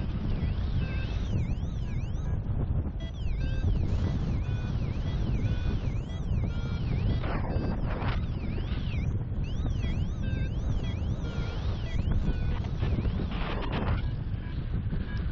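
Strong wind rushes over the microphone during a paragliding flight in a southeasterly breeze, a loud continuous buffeting roar with steady gusts throughout, overlaid by faint electronic beeping tones of a flight instrument.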